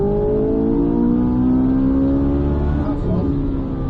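A car engine accelerating hard, rising harmonic whine climbing steadily in pitch, loud and close, easing off near the end.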